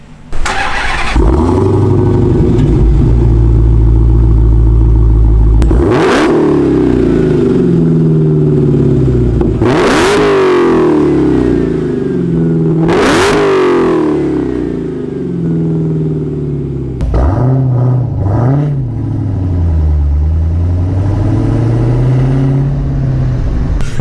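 A 2018 Dodge Challenger Hellcat with a six-speed manual roars loudly up close, with deep engine drone and several sharp rising revs between gear shifts, ending in lower rumbling throttle swells.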